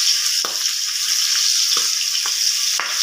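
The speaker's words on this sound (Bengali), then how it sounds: "এই দেখো মাছ ভাজা হচ্ছে" Fish fries in a pan in a home kitchen with a steady, bright sizzle, punctuated by a few soft clinks or stirs at irregular intervals, with no talking.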